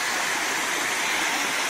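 Rahas Waterfall near Soro, Baleswar, roars in a steady, dense rush of falling water, close and uninterrupted for the whole short stretch.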